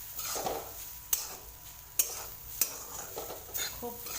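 Dry gram flour besan is stirred in a pan, producing soft scraping with a faint sizzle and several sharp metallic taps of the spoon against the rim, quiet and close.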